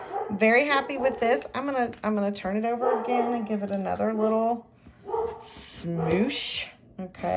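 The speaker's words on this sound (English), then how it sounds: "I'm sure you can hear my dog in the background." A pet dog barks in short bursts in the background of a home crafting session, partly hidden under steady close-up talk from a woman making a card.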